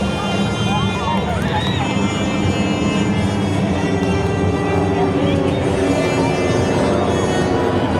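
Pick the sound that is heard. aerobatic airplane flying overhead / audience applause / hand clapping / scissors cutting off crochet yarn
aerobatic airplane flying overhead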